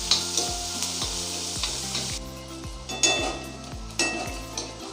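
Onions fry in a pan for dry shrimp masala with a close, steady sizzle and a few sharper stirring scrapes partway through; no voices.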